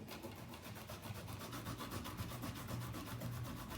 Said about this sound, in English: so it's time to grate it now.